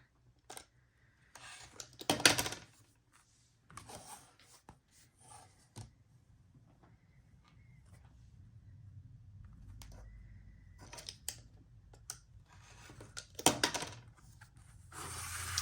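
Fabric pieces trimmed from the edge of a quilt square: a few quiet, scattered cutting and rustling bursts spaced a couple of seconds apart, with faint handling noise between them.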